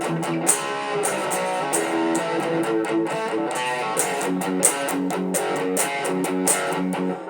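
Distorted electric guitar plays a chorus riff, a steady chugging rhythm with bright accented hits, loud and close with no talking.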